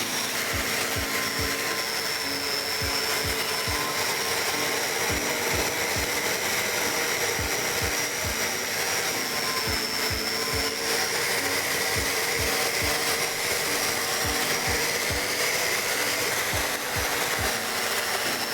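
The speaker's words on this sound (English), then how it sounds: "I start by using the angle grinder with a brass wire cup attached" An angle grinder fitted with a brass wire cup brush scrubs heavy rust off steel wheel rims, a loud steady motor whine with rapid repeated scraping strikes, close and continuous with no talking.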